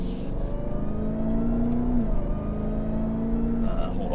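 A car fitted with a ProCharger supercharger runs with its engine note held steady, carrying a prominent high, sustained supercharger whine that rises slightly and then drops away, heard close up from inside the vehicle.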